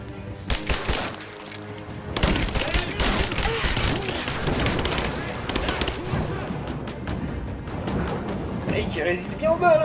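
Gunfire in the video game Rise of the Tomb Raider: dense bursts of rapid shots and booming impacts fill nearly the whole stretch, loud and continuous with brief gaps.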